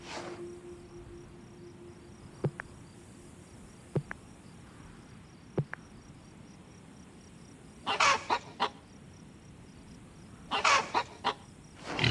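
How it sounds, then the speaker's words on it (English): Hens cluck in short scattered bursts over a steady insect-like drone, with a few sharp clicks and a faint low hum. "The hens stir in the hen house."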